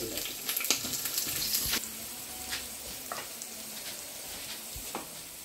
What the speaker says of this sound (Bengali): টমেটো চাটনিতে একটু বাজিয়া দিলাম